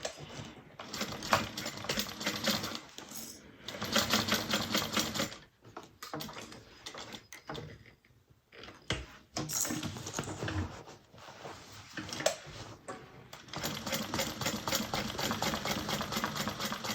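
A sewing machine stitches around the outer perimeter of a handmade bag, running in steady bursts of rapid mechanical chatter with short pauses between runs, close and fairly quiet.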